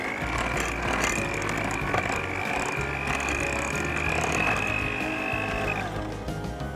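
Electric mixer beating margarine with granulated sugar for a batik cake batter: a steady mechanical whir with a sustained whine and faint rattling, continuous throughout at moderate loudness.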